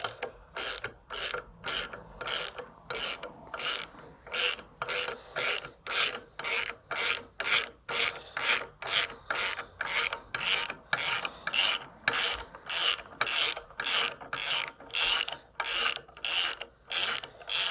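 Steady ratcheting from a valve spring compressor being loosened on a C5 Corvette engine: rapid repeated clicks in an even rhythm, about one burst every half second, close and clear with no talk.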